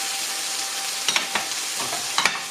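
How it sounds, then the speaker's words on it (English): Small pieces of thawed frozen mixed vegetables fry in a pan over fairly high heat, giving a steady close hiss broken by a few sharp clatters of stirring. "While that's still on a reasonably high heat, I'll add the mixed veg."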